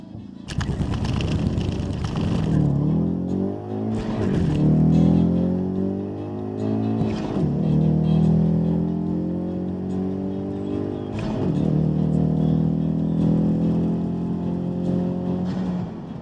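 An EcoBoost Ford Mustang launches down a drag strip on a timed pass, the engine roaring up through the revs in long rising sweeps, dropping briefly at each gear change, then climbing again, loud and steady throughout.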